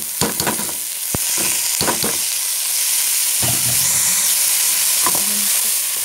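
Rice tipped into a hot pan of local butter with browned noodles, frying in a steady sizzle, with several sharp clattering stirs and scrapes early on and a crackling hiss that stays constant and close, no voices.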